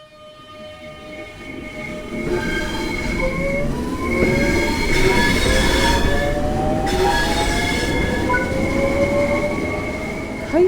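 An electric high-speed train in Train Sim World 3 on the Southeastern High Speed line runs steadily, with rising motor whine tones over a continuous rumble of wheels and rails, loud and close, with no talking.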